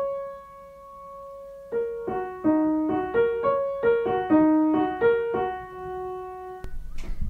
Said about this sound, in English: Or just one key at a time.